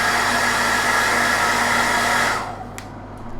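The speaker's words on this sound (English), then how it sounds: "Hit this with a hairdryer." Hairdryer blowing to dry paint on a miniature, a loud steady whooshing roar that cuts off near the end, leaving faint room noise and a couple of small clicks.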